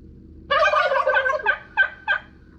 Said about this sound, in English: I'm doing this fun little Thanksgiving turkey sound effect device for my work.